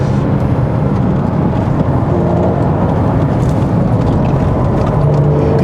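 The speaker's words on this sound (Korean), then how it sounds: "이 박스와 6기통 엔진과 그 다음에 배기음이 둘 다 등 뒤에서 같이 들려오잖아요" A Porsche 981 Boxster S's mid-mounted six-cylinder boxer engine and exhaust drone loudly and steadily from inside the cabin during a drive on a winding road.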